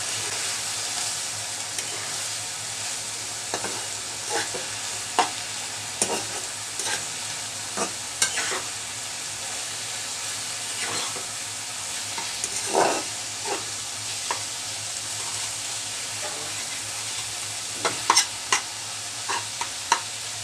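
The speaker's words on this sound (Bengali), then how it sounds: "ডিম দেওয়ার পরে ভাজা হয়ে গেছে" Pumpkin flowers with egg fry in a pan, giving a steady, close sizzle broken by repeated light scrapes and taps of stirring, with no voices.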